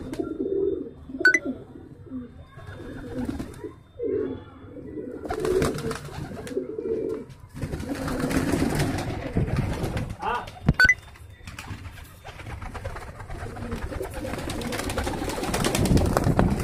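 Pigeons in a netted rooftop loft, a flock of mostly new birds, give repeated soft throaty coos that overlap at close range, along with rustling and occasional sharp knocks.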